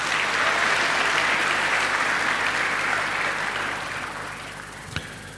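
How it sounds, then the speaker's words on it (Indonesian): Graduation ceremony audience in a large hall applauding, a dense sustained wash of clapping from many hands that gradually thins toward the end, with one sharp knock near the close. "Tepuk tangan untuk"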